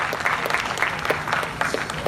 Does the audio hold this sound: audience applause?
yes